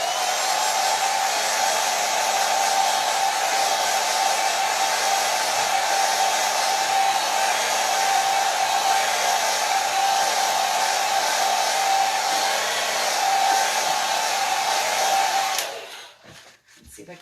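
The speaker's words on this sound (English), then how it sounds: "I'm going to blow dry real quick, guys." A hair dryer blows steadily and loudly on acrylic paint for about fifteen seconds, a constant rushing whir, then switches off abruptly.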